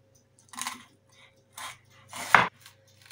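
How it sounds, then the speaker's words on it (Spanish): Knife slicing a red bell pepper into thin julienne strips on a cutting board, a few short soft cutting bursts with one sharper knock against the board, no talk. "Cortamos en juliana el pimiento rojo"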